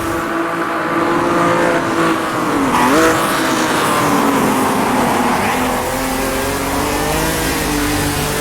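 Race car engine in second gear in the Automobilista 2 racing game, Bathurst 1983 circuit, a loud steady drone that dips briefly and climbs back as the revs bog and recover, with faint tire squeal.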